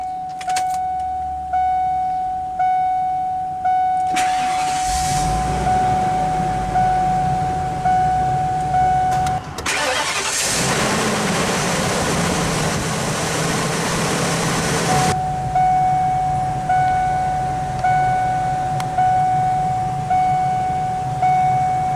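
A Ford 6.8 liter Triton V10 in a 2002 Coachmen Catalina Sport motorhome cranks, fires and runs, its broad engine roar rising over a steady electronic warning chime that rings before and after.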